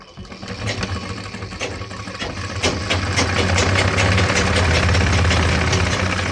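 Industrial sewing machine stitching a curved seam along a trouser fly on official pants, a steady low motor hum with dense rapid needle chatter that grows louder and continues throughout, with no talking.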